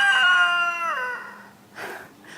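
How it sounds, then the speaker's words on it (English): A rooster crows loudly with a long, wavering call, followed by a shorter, rougher crow or squawk after a brief pause. "These roosters are making too much noise."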